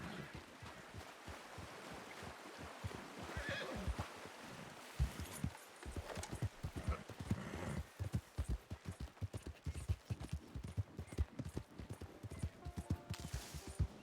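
A donkey's hooves clip-clop at a steady walking pace in a Western setting, sharp and fairly close, with a windy, watery outdoor hiss underneath.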